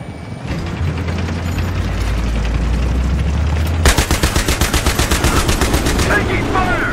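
Gunfire in the video game Battlefield 3: a heavy rumble with scattered shots gives way to a loud, rapid automatic burst of evenly spaced cracks over battlefield noise.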